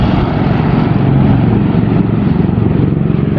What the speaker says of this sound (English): Hope you can hear me over this traffic.